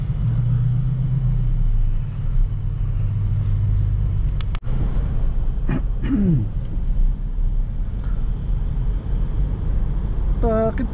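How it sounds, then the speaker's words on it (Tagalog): A steady low rumble of road traffic surrounds a rider on a big motorbike, with a passing vehicle, a brief whine and a sharp knock partway through, and faint chirps near the end. "Traffic."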